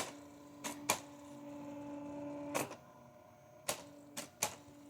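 A Brother EP44 hybrid typewriter prints in short mechanical bursts, a few quick clattering strikes spaced across the moment, over a steady low electrical hum, close and fairly quiet with no talk.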